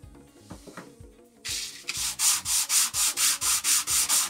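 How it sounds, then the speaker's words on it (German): A wooden block's edge is sanded smooth in about a dozen steady back-and-forth strokes, loud and close rasping, preceded by quieter handling sounds while low rhythmic music plays beneath. "Wir schleifen eine Kante an."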